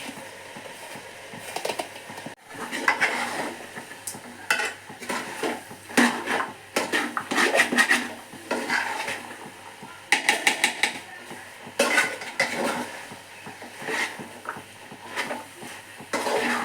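Grated coconut stirred into jackfruit sukka in a pan, irregular bursts of a metal spatula scraping and clattering against the pan, close and uneven, with quieter pauses between strokes.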